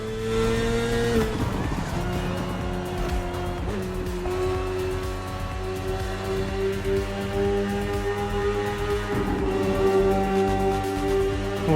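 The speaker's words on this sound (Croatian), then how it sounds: "The one you're riding is the S1000RR. It's what we call a superbike." A BMW S1000RR superbike in The Crew Motorfest screams along at high revs, its engine note rising and dropping through gear changes, loud and continuous with faint tire noise.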